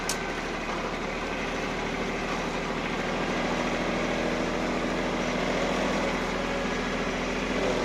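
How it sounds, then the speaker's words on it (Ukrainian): A tractor running a Mateng NEFL 95 mulcher while mowing in front of a garden, a steady loud engine drone with dense mechanical whirring that holds constant throughout, close by and without speech. "Маленько ще перед городом трошечки підкошу."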